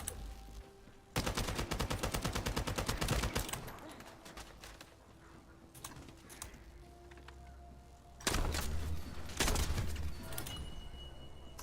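Rapid automatic gunfire from a video game weapon rattles out in two sustained bursts, one early and one near the end, loud and close, with quieter game ambience in between.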